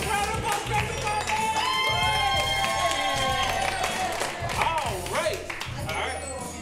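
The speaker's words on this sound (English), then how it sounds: "Give them a round of applause" An improv comedy audience claps and cheers as performers take the stage, lively crowd applause mixed with shouts and loud talk over it.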